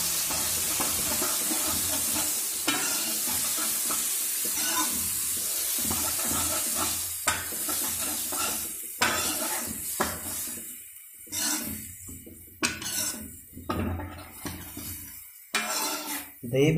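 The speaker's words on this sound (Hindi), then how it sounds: "ये देखिए दही डाल दिया है और इसको अच्छे से मिक्स कर देंगे" Bottle gourd mixed with curd is stirred in a hot pan: a soft sizzle under repeated spoon scrapes and metallic knocks against the pan, which grow sharper and more frequent toward the end.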